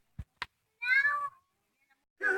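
A cat gives two meows, one drawn-out and one starting just at the end, close and clear. A couple of soft taps come first, with quiet gaps between the sounds.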